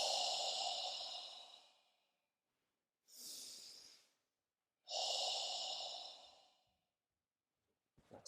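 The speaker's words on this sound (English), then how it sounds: "Inhale up." Strong, airy breaths during a yoga class exercise: three long breaths near the microphone, the second shorter, separated by silence, loud and close with no talking.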